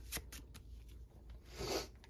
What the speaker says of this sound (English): Shuffle all these up